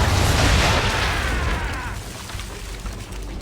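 Heavy ship cannons in Assassin's Creed III fire round shot in one loud, booming broadside blast that rolls out and slowly fades into a rumbling tail.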